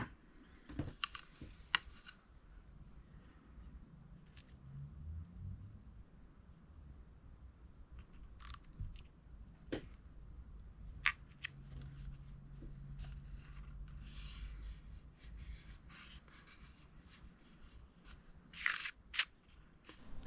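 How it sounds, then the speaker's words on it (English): Clippers snip excess binding off a handmade medieval arrow at a desk, giving a few faint, sharp clicks scattered among quiet rustling and handling noises, with no voices. "I'm just going to get a clippers and snip that off."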